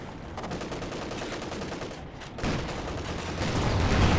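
Anti-tank guns firing in a Company of Heroes 2 battle, heavy booming shots layered over dense battlefield gunfire and explosions, loud and continuous, rising toward the end.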